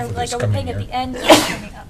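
Someone lets out a single sharp sneeze during a school board meeting, and several voices keep talking in the room just before and after it.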